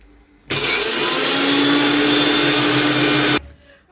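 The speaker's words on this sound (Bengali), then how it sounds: "সর্ষেটা মিক্সারে আমি গ্রাইন্ড করে নেব" Mustard seeds being ground in an electric mixer grinder, a loud steady whirring motor roar that starts abruptly, runs for about three seconds and cuts off cleanly.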